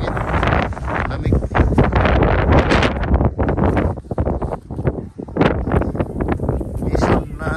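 Strong, cold wind at Abraham Lake buffets the microphone in loud, uneven gusts and rumbles, with brief lulls between the blasts.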